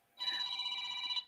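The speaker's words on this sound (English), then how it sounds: "Who's getting a phone call?" A phone rings abruptly during a podcast conversation, giving one sustained electronic trill just over a second long that is loud and close against near silence.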